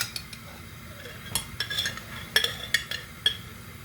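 A spoon scrapes and taps against a jar while scooping reduced-sugar spread, giving a string of light clinks and chinks at close range with quiet gaps between them.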